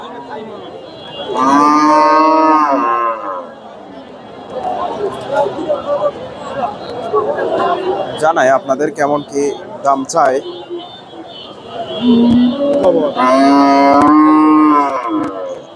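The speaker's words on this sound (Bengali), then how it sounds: "এই যে ষাঁড়টা, ফ্রিজিয়ান জাতের ষাঁড়।" A Friesian bull moos loudly at a busy cattle market, two long drawn-out bellows near the start and end, with someone talking and crowd chatter in between.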